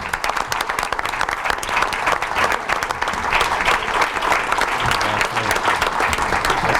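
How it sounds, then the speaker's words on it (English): An audience at a school board of education meeting applauds award-winning students. The clapping is loud, sustained and dense, with a steady roar of many hands throughout. "Let's give these students a round of applause"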